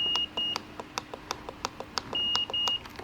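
Short electronic beeps come from a continuity tester checking pins on the button of a BMW G30 turn signal lever. The close, crisp chirps alternate with several longer steady tones in an irregular pattern.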